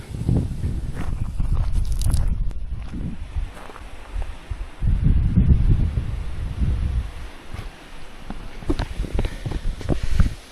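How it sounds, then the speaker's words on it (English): Blustery wind buffeting the microphone in gusty, uneven surges at a touring park, with rustling and a few soft knocks, no talk. "Very blustery still."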